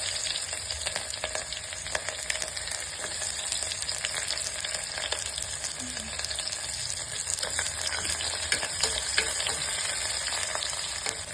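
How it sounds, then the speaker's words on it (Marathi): Onion frying in a tempering of oil, a spoon of ghee and mustard seeds for vegetable khichadi makes a steady, close crackling sizzle with faint stirring scrapes throughout. "फोडणीला कांदा"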